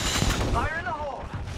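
A grenade blast in the Apex Legends shooter game, heard as a loud burst among gunfire and game effects, with a voice calling out over the action.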